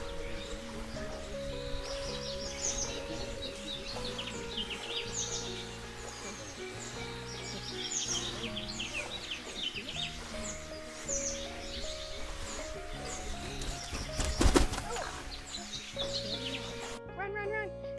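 Many birds chirp and call across the valley at Ninh Binh, a busy layer of high twittering running steadily through the whole scene, mixed with background music and a brief louder burst toward the end.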